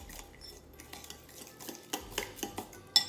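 Spices being stirred into maple syrup in a bowl, a quick series of light clinks and scrapes from a utensil against the bowl, close and fairly quiet.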